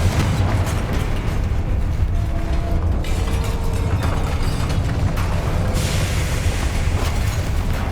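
A Confringo spell explosion from the Hogwarts Legacy video game roars as a sustained, loud booming blast, a thick rumbling wash of noise that shifts and flares partway through without letting up.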